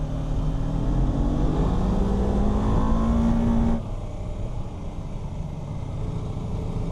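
A BMW F450GS motorcycle accelerates hard through its gears on a winding road with hairpins, the engine note climbing steadily then cutting sharply at a quick-shifter upshift before pulling on again, loud and close with wind rush throughout.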